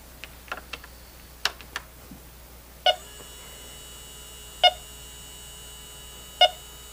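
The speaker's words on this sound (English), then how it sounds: "You try to turn on your leak detector" Yellow Jacket AccuProbe leak detector powering on, a few soft clicks followed by three loud, evenly spaced electronic beeps about two seconds apart, close in a quiet room.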